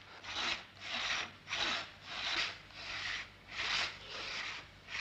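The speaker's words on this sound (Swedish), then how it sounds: "är det mitt träd de tänker såga ner?" A hand saw cuts into a tree trunk in the woods, its rhythmic strokes rasping back and forth about seven times at a steady pace, loud and close with no talk.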